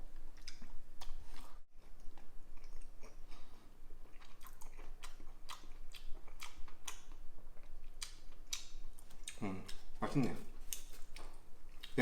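Someone eats Australian-style bacon carbonara pasta close up, with soft bites and chewing clicks and a few crunchier moments scattered over the clip, over a low steady background hum.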